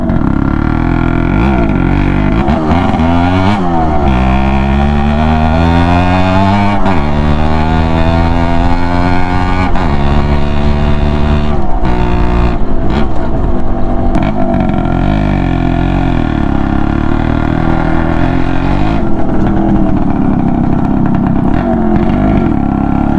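A 1998 Suzuki X4 125 two-stroke motorcycle engine revs up and down several times. Its buzzing pitch climbs and falls loudly and close by for the whole stretch.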